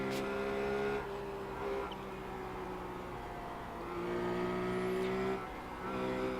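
Race car engine in the iRacing sim during a 45-lap race, a steady loud droning whine holding near-constant pitch throughout, with slight swells as revs rise, no voices.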